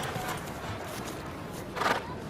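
Stardust, the Queen's novice horse, is ridden side saddle at a horse show, and its hooves clip-clop faintly at a walking pace against the quiet arena background, with a brief louder thud near the end.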